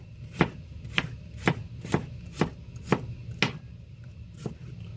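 A knife chopping garlic on a cutting board, eight crisp evenly spaced strikes at a steady rhythm, close and clear with no talking.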